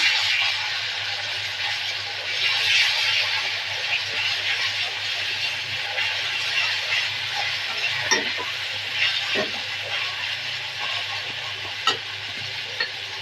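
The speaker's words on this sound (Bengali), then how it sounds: "এখন দিয়ে দিচ্ছি পেঁয়াজ বাটা আর জিরা বাটা দিয়ে একটু কষিয়ে নেবো" Onion paste and cumin paste sizzle and fry in a pan for a Bengali hilsa fish curry with cauliflower, a steady close hiss with occasional stirring scrapes and clicks.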